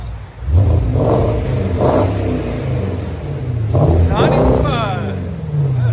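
Porsche Cayenne S with a 4.8-litre V8 and bottle exhaust resonator revs repeatedly, several loud throttle blips rising and falling close by, with people talking over the engine.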